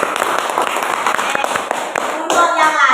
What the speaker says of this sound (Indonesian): Tepuk tangan untuk kelompoknya Bagas